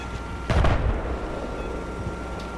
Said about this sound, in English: They got mortars?